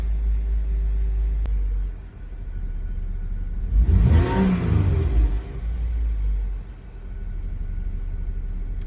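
A car engine bought from a Copart auction, with a cylinder 4 coil pack still needing replacement, idles with a steady rumble and then revs up once before settling back to idle.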